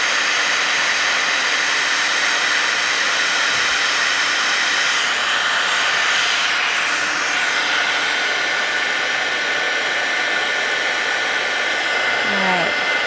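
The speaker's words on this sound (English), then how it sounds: "I'm gonna make sure my heat tool is really hot before I go in." A heat embossing tool blows a steady, loud, hot-air roar over cardstock, continuous for the whole stretch like a hair dryer, with no talking over it.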